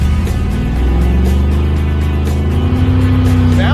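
A 1966 Ford Econoline van doing a burnout, its engine held at a loud steady roar with a gritty rasp of spinning tires, close and continuous throughout.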